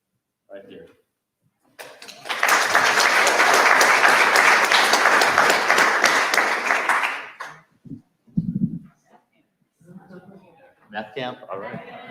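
Audience at an innovators' pitch event claps for the next presenter, a dense burst of applause lasting about five seconds, framed by brief speech before and after.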